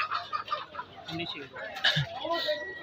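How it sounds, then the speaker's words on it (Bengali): Chickens clucking amid a busy poultry market crowd in Chachkoir, Gurudaspur, Natore, Bangladesh, with layer, broiler and Sonali chickens; voices chattering throughout and a few sharper bird calls standing out. "এখানে দেশি বিদেশি সব ধরনের মুরগি পাওয়া যাচ্ছে, লেয়ার মুরগি, ব্রয়লার মুরগি, সাথে থাকছে সোনালী মুরগি।"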